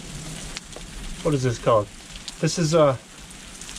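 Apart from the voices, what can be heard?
heavy rain pouring down in the desert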